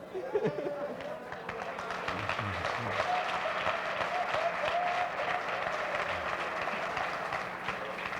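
A church congregation claps together in steady, dense applause that carries through the room at moderate level, with voices murmuring underneath.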